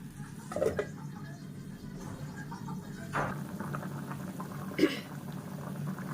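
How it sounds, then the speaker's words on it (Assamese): Vegetables and greens bubble and simmer quietly in a pot, a soft steady boil with a few louder pops and clinks. "আৰু গাইজ চব কি ধুনীয়াকৈ উতলিছে।"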